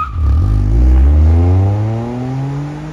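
A Toyota GR Corolla with a three-cylinder engine launches hard from a standstill, its engine note climbing steeply through the revs in one loud, close acceleration pull with rising harmonic tones.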